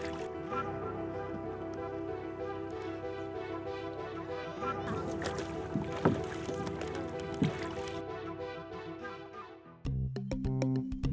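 Small motorboat carrying passengers across open sea between two islands, its engine droning steadily throughout with water noise, louder bursts midway and a sudden shift near the end.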